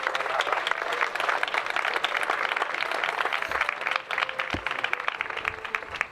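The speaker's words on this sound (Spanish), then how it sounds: "le damos un fuerte aplauso" A crowd at a cultural event in Ágreda breaks into loud, sustained applause, many hands clapping in a dense, continuous rattle that stays strong throughout, with a slight dip near the end.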